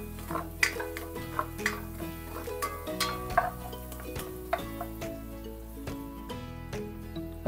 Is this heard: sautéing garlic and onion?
yes